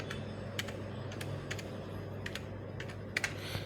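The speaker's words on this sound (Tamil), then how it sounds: "gsmrockனு டைப் பண்ணுவோம்." Typing on a computer keyboard while entering a website address into a Chrome browser: scattered, fairly faint key clicks in short irregular bursts, with a small cluster near the end, over a steady low room hum.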